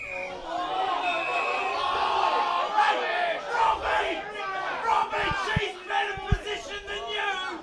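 A Kapunda crowd at a BLG Football Association Australian rules match against Willaston shouts and bellows together in a loud, surging roar, with mixed cries and chatter rising and falling throughout.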